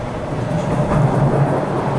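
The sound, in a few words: Ashmont subway train arriving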